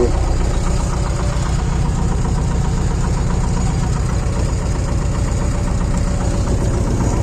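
A tractor engine works in fifth gear while plowing newly uprooted land, making a loud, continuous, close drone with a steady rhythmic chug throughout.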